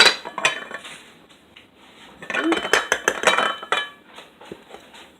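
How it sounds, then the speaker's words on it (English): A hot bowl of keto French toast bread pudding is knocked and turned out onto a plate, giving a cluster of close clattering ceramic knocks and scrapes with a voice talking at the start. "And then take a plate and dump it out."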